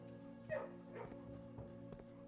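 A puppy in the video game Blue Prince gives a few soft, faint yips and barks, spaced apart over a low background hum.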